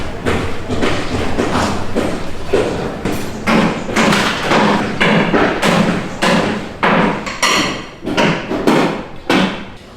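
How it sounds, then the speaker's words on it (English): Construction work at the building next door in Vietnam: repeated hammering and heavy thuds, loud and close, an irregular burst of strikes nearly every half second with no pause for the full ten seconds. "There's actually construction happening at this building right next door."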